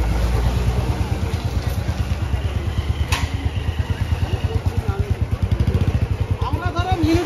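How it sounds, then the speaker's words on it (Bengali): Motorcycles of the Kakdwip riders group arrive at an Independence Day gathering. Their engines throb in a close, rhythmic low pulse, with people talking over them. "আমাদের কাকদ্বীপ রাইডার্সের দাদারা এসে গেছে আবার বাইক নিয়ে"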